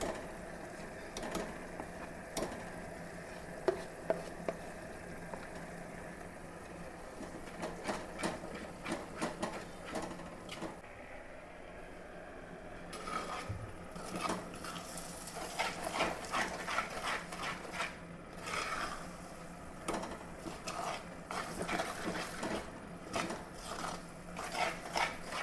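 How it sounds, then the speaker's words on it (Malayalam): Masala paste for beef vindaloo frying with onions in a pan: a dense, steady crackling sizzle punctuated by irregular scraping clicks of stirring, continuous and close throughout with no talk. "അരപ്പൊന്ന് നന്നായിട്ട് ഈ സവാളയിൽ കിടന്നൊന്ന് മൂക്കണം കേട്ടോ"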